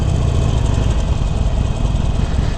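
A 2019 Harley-Davidson Forty-Eight Special motorcycle with ABS rumbles steadily up close, a loud, continuous low engine drone with no talk over it.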